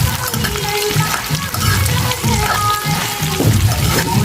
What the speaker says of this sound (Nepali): लसुन प्याजलाई अब तेलमा राखेर फ्राई गर्नुपर्छ।